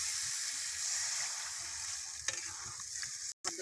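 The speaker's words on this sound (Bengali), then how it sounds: "এবার পানি দিয়ে দেবো।" Water hits a pan of fried cauliflower and spices for a rohu fish curry and sets off a loud, steady hiss and sizzle with faint stirring, then cuts off abruptly near the end.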